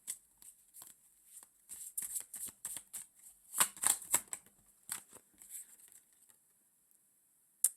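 Tarot cards are shuffled and handled in a quiet room, giving a run of soft, rapid papery flicks and riffles with a few sharper snaps, then a near-silent pause before one last card tap.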